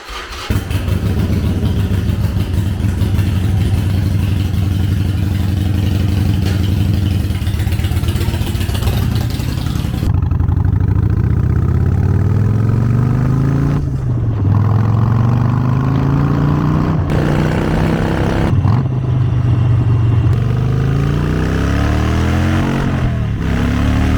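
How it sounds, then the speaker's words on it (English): A Harley-Davidson motorcycle engine runs loud and close through a short ride, idling steadily at first, then revving up repeatedly in rising sweeps between gear changes. "I'm gonna hop on this thing, take it out for a quick rip, warm up the oil, warm up the transmission"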